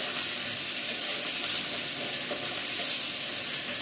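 Beans and carrots sizzle and fry steadily in a hot pan while semolina upma is prepared, a dense continuous hiss with no talking over it.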